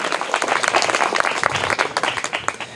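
A classroom of students applauds a classmate's correct quiz answer, giving dense, lively clapping that holds steady for a few seconds without speech.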